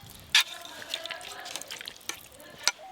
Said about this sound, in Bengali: অল্প একটু জল দিয়ে দেবো।